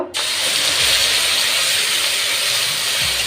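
Salt and turmeric hit hot oil in a pan for a mustard-paste pointed gourd dish, bursting into a loud, steady sizzle that holds without letup.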